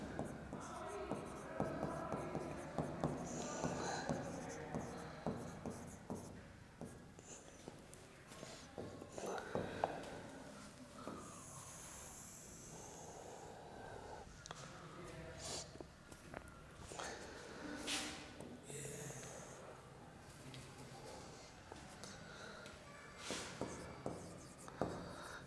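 Account entries being written by hand on a board or paper during an accounting lesson, a steady scratchy writing sound with pauses, mixed with faint background noise and occasional soft movement.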